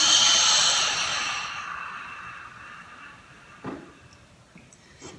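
A deep exhale during a guided Buddhist breathing exercise, a long breathy whoosh that starts strong and slowly fades, followed by faint quiet sounds.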